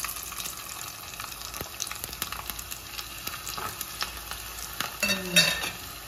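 Small onions, or shallots, fry in a pan with a soft steady sizzle, broken by frequent clinks and scrapes of a stirring utensil against the metal. It is fairly quiet and has no talking.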